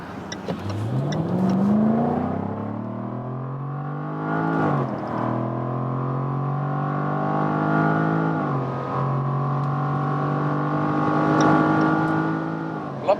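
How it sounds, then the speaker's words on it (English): A Jaguar F-Type V8 convertible, the 450-horsepower P450 R-Dynamic from 2020, pulls hard onto a motorway, its engine note climbing steadily through the gears with brief dips at each shift, loud and close from inside the cabin. "Great performance from this V8 engine."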